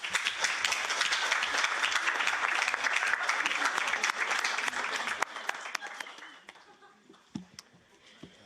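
Audience applause in a hall after a resolution passes at a Model European Parliament session in Brussels; dense, loud clapping for about five seconds, then thinning into scattered claps and a few voices as it dies away.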